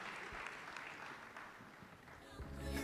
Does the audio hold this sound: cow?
no